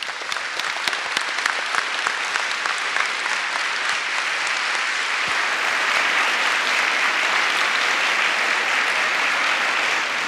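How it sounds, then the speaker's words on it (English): Sustained, dense audience applause for veterans at a high school living history program, loud and even across the whole stretch with no talk over it. "Let's give these veterans the applause they've earned."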